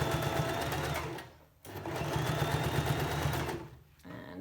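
A sewing machine stitches a pleated fabric face covering in two loud, steady runs of rapid mechanical whirring, with a brief pause between them and another stop near the end.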